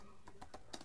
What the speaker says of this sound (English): and I will type here